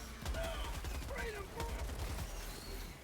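Heavy machine gun fire in the Helldivers 2 video game comes through as rapid, dense bursts of shots that fill the whole span, with brief groaning vocal sounds mixed in.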